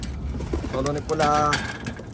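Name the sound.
pigeons cooing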